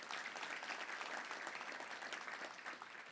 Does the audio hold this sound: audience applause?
yes